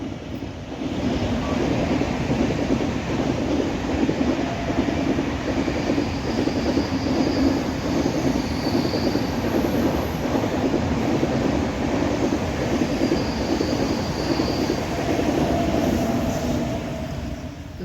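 A train rolling past a railway crossing on a rural route near Sakur toward Trimbakeshwar, a loud continuous rumble and rhythmic clatter of wagons that holds steady throughout and eases only slightly at the end.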